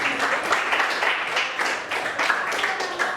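A classroom of students claps in applause, a dense, steady burst of many hands lasting a few seconds, close and fairly loud.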